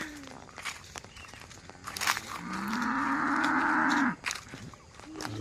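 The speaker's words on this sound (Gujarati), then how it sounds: "ગાય બૂમો પાડે છે" A farm cow gives one long, loud, drawn-out moo near the middle, close by, with faint rustling and footsteps before and after and some soft talk nearby.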